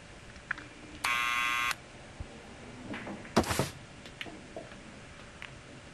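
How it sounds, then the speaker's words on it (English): A door buzzer at an apartment building entrance in the Back to the Future adventure game sounds once as a steady electronic tone lasting under a second, followed by a short bright clatter like a door or intercom click, with quiet room tone around it. "Let's go to the buzzer."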